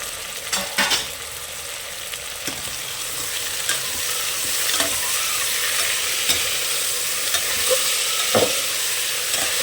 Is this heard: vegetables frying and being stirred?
yes